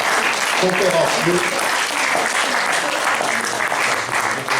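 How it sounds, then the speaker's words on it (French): An audience at a painting-and-philosophy talk applauds two speakers with dense, steady clapping that fills the whole stretch, while a voice speaks briefly over it. "je crois que nous pouvons applaudir les deux"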